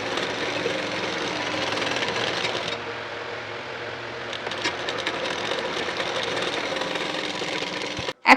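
A sewing machine runs in steady bursts while a blouse sleeve is stitched, its quick, even mechanical whirr close and continuous, pausing briefly mid-way before resuming, ending with a sharp knock.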